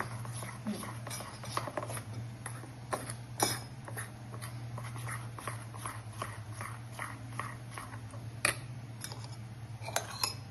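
Gram flour stirred into hot ghee in a pan for Mysore pak, a steady run of faint scraping and clinking spoon strokes against the metal over a low background hum.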